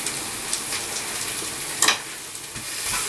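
Onions softening in a pan on the stove over low heat, a steady soft frying sizzle with light crackle and one brief louder spit, close and continuous without talk.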